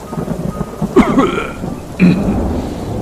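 Steady rain pours in a cartoon storm scene, with two sudden rumbling thunder claps about a second apart over the constant patter, and no voices.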